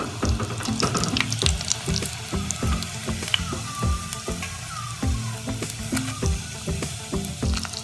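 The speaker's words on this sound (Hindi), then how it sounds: "बाकी भी बॉल्स फ्राई कर लेते हैं" Potato cheese balls deep-frying in hot oil, a dense, continuous bubbling sizzle heard up close, steady throughout with scattered crackles and pops, and no one talking.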